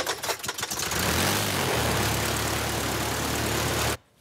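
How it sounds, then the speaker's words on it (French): A vintage propeller plane's engine is hand-started by pulling a propeller blade. It catches with a few irregular sputtering bursts, then settles into a loud, steady, low idling drone that cuts off abruptly. "Ça se démarre en actionnant l'hélice, à l'ancienne."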